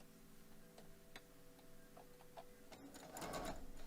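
A sewing machine runs steadily, stitching quilt block pieces together with a scant quarter-inch seam. The mechanical ticking stays moderately quiet and close, then grows louder near the end.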